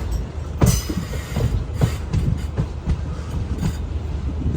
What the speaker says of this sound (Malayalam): തിരുവനന്തപുരത്തെ കൊച്ചുവേളി റെയിൽവേ സ്റ്റേഷനിലേക്ക് ഇതാ നമ്മുടെ ട്രെയിൻ എത്തിക്കൊണ്ടിരിക്കുകയാണ്.